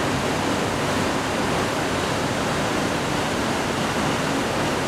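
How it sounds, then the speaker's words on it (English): Wastewater rushes in a steady, dense roar at the inlet works of a Yorkshire Water wastewater treatment plant, a constant broadband torrent like a waterfall that holds even and close for the whole stretch, with no talk over it. "We're at the inlet works here to one of Yorkshire Water's wastewater treatment works."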